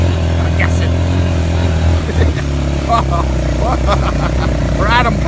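ATV engine riding through the town of Jaco, Costa Rica, heading up a mountain road: a steady, loud motor drone running throughout with occasional revving, and people talking over it.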